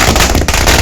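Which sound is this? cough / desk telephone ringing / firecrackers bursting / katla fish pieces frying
firecrackers bursting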